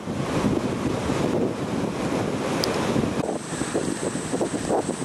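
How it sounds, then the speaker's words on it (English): Ocean waves at Palolem Beach in Goa, India, a constant roar of surf mixed with heavy wind buffeting the microphone, loud and without talk. "One part of the Palolem beach in Goa, India."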